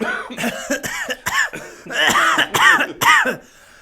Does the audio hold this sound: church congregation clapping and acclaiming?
no